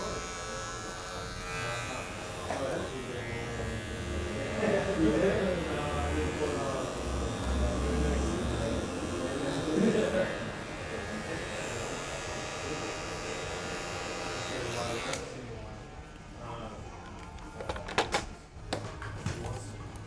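Electric hair clippers buzz steadily and up close while a barber blends a high and tight flat top, with the hum shifting as the blade moves through the hair, then stopping to leave small clicks and handling sounds.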